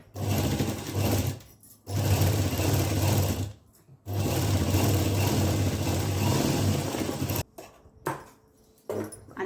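Sewing machine stitching the seam of a long skirt: steady, loud mechanical whirring in long continuous runs, with brief pauses in between.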